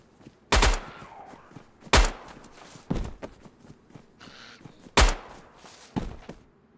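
Four sharp, loud gunshots ring out unsuppressed in DayZ, spaced irregularly about a second or more apart, each with a short decaying tail, plus a couple of softer thuds between them.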